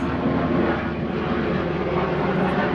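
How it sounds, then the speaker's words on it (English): A helicopter flying overhead, its steady loud engine and rotor roar filling the whole stretch without letting up, with no talking. "Now wait on this helicopter to go over."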